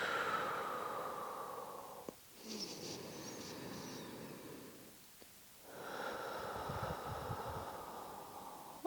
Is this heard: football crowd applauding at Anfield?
no